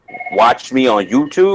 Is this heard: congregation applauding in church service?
no